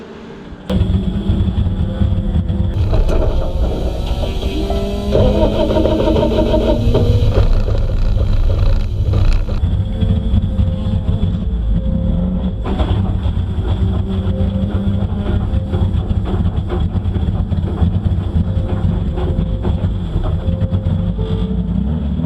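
A drag race car engine at the strip, starting up and settling into a steady loud rumbling idle before rolling away, with crowd and track ambience underneath.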